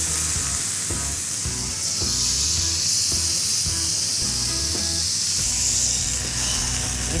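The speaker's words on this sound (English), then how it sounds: "Listen to that sizzle, they smell so good." Steaks searing on a very hot char-grill pan give a loud, close, continuous sizzle with bright hissing spitting, intensifying partway through, and no speech.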